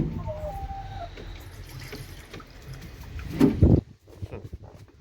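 Water poured through wire mesh into a rabbit's bowl: a running, splashing trickle with small drips, rising to a louder gush before stopping abruptly, followed by faint scattered drops.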